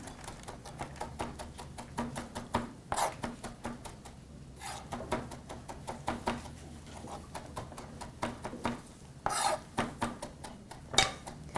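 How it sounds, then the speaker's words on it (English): Fresh parsley being chopped with a knife on a cutting board, a steady run of close, crisp knife taps with a few louder clacks, no talking. "So I have some fresh parsley here, and I'm just giving it a chop."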